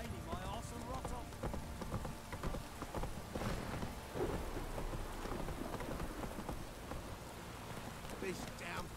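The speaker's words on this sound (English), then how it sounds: "This downpour's a bastard." Heavy downpour in The Witcher 3 video game, a dense continuous wash of rain with hooves clopping and faint thunder, under steady speech from a player and in-game voices.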